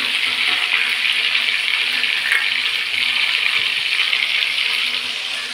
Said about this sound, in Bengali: ভালো করে ভাজছি, ভালো করে ভাজতে হবে